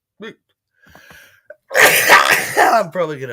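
A single loud human sneeze bursts out near the mic after a few soft spoken words, followed by a brief vocal trailing sound.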